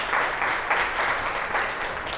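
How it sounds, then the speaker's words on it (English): Applause for the panelists at a Latina community luncheon in Solano County, a steady round of clapping from a room full of people, loud and close for its whole length. "let's give a round of applause to all our panelistas"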